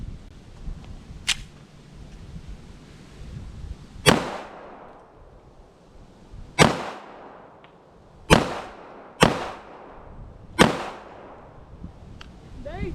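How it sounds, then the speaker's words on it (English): Sharp, loud pistol shots from a Kimber 1911 Custom II LW Nightstar ring out one at a time, six cracks spaced irregularly a second or two apart, each trailing a brief echo, with no voices. "let me shoot some more"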